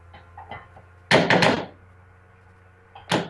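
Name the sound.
fresh pumpkin puree being plopped into a bowl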